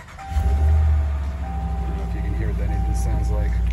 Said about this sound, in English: Go ahead and start it up.